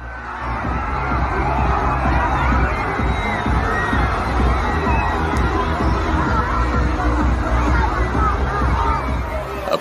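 A large crowd fills an amusement park with steady, loud hubbub: overlapping chatter, distant shouts and children's cries blend into a constant wash of voices with no pause.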